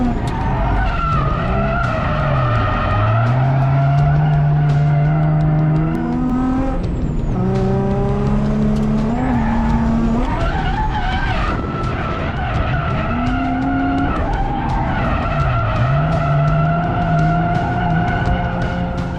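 A car drifting with loud, sustained tire screeching, as the engine revs rise and fall in repeated swells across several long slides, close and continuous throughout.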